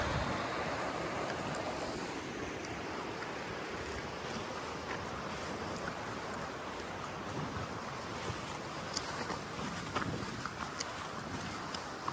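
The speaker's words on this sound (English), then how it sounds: "Got a high mountain stream." A high mountain stream on the White River in the Flat Tops flows in a steady, dense broadband rush, continuous and fairly close, with no voices over it.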